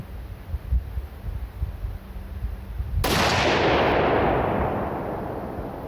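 A single loud, close rifle gunshot firing a homemade reloaded round, a sharp blast at mid-clip that rings out into a long decaying echo after a few seconds of quiet outdoor rumble.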